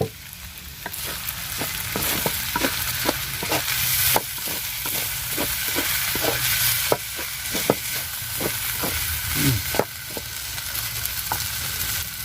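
Fried rice with soy sauce, cooked over bamboo, sizzles steadily in a pan while a utensil scrapes and taps it in a brisk repeating rhythm, close and loud throughout.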